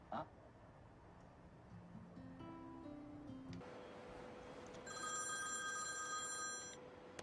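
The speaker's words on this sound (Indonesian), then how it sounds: "tampak Bunny sedang menerima telepon dari seseorang" A telephone rings in a film scene, a quiet electronic tone sequence stepping up in pitch followed by a brighter ringing burst, faint against a soft background.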